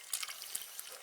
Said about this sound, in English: I'm going to put water in that one.